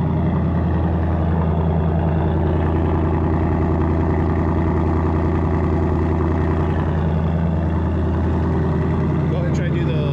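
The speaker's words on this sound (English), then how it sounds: "Let's go ahead and get an exhaust clip for you guys." A 2024 Mustang Dark Horse with an H-pipe exhaust idles in a steady, loud, deep burble, a throbbing low rumble that holds evenly throughout without revving.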